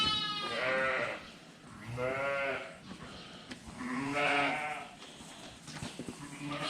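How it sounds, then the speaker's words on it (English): Ewes and ewe lambs bleat in a dry barn, several loud, wavering calls overlapping close by, with quieter rustling between them. "Those are mostly ewe lambs, and these are more the mature ewes."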